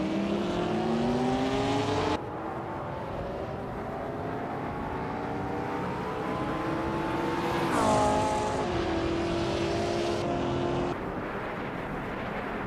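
A 1952 Jaguar C-Type race car in a video game race, its engine droning loud and steady with rising and falling pitch as it shifts through gears, the tone changing abruptly a few times.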